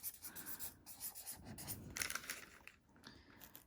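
A dry erase marker squeaks and scratches across tracing paper in a journal, faint, close strokes in an uneven rhythm with no speech.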